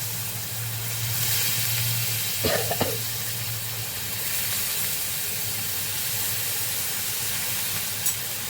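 Bitter val beans hit a hot pan and sizzle with a steady, broad hiss that continues throughout, marked by a couple of brief clinks near the middle.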